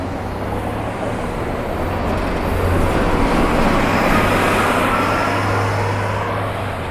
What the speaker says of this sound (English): One of the local buses,